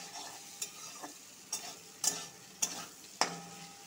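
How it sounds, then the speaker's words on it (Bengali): Potatoes frying in oil with turmeric, a soft sizzle under a series of distinct spatula scrapes and clinks against the pan, about six strokes spaced roughly half a second apart, close and fairly quiet. "ভালো করে আলুটা লাল লাল করে ভেজে নিব"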